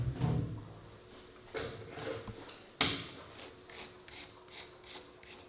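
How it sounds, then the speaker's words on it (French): Wax cappings scraped off a honey frame by hand, a series of rhythmic close scraping and rasping strokes, quiet with sharper scrapes at intervals. "je vais gratter les petites opercules, hop, que le miel puisse s'échapper tout simplement"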